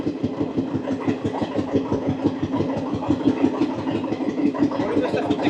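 A short connecting train on the single line between Tinpahar Junction and Rajmahal in Jharkhand runs past nearby with a rhythmic clickety-clack of wheels over a low engine rumble.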